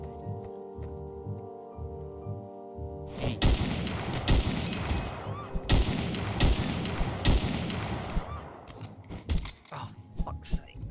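Gunshots in the video game Of Murder and Moonshine, a rapid burst of sharp, loud shots and booms after a quieter opening, continuing in clusters with voices talking over the firing.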